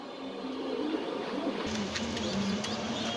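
Soft, low cooing of pigeons, including American breeds with a chick, repeating over a steady background hum, with a few faint clicks.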